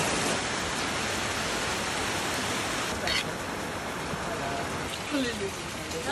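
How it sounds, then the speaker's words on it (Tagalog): Heavy rain pours steadily as a dense, continuous hiss, with faint voices murmuring beneath the downpour. "Grabe, ang lakas ng ulan."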